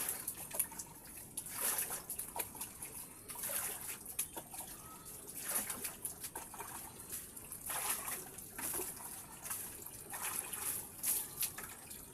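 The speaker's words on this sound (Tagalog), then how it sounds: "So, ngayon, magbabanlaw pa tayo kasi ang dami kong babanlawan" Laundry being rinsed by hand in a tub of collected water, with splashing, sloshing and dripping bursts that come and go steadily and close by, and no talk.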